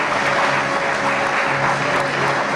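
A crowd at an athletics celebration applauding, dense continuous clapping at steady loudness throughout.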